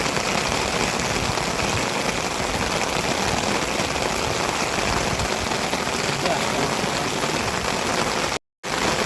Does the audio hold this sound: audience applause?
no